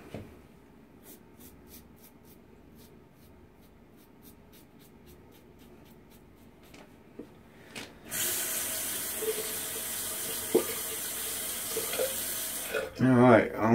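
A bathroom tap runs to rinse out a shaving bowl, a steady close splashing stream that starts after a stretch of quiet scratchy handling sounds, with a brief clatter at the end.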